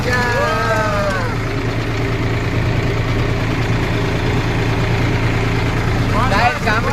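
A village tractor engine idles steadily with a low, even drone throughout, while voices come through briefly at the start and again near the end.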